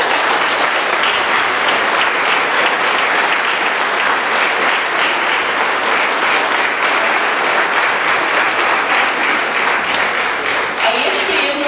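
A school theater audience applauds the small children on stage after a Little Prince performance, a loud, sustained wash of many hands clapping continuously, with a few voices near the end.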